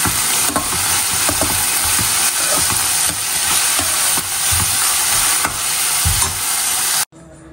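Onion, beetroot and green chili fry loudly in oil, a close, continuous sizzle with frequent stirring scrapes and knocks, before the sound cuts off abruptly at the end; there is no talking.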